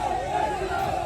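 Crowd of protesters demanding justice for a young girl, gathered in a street, forming a steady dense murmur of many voices throughout this brief moment.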